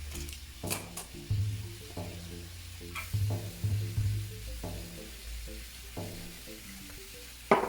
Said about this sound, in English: just add a little bit of olive oil. Add the onion